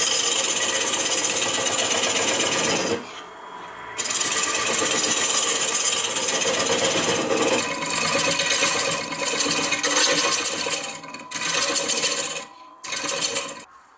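Wood lathe turning a yew bowl, a loud continuous scraping and rubbing of the tool on spinning wood, with short pauses and shifts in intensity as the cut is eased off and resumed.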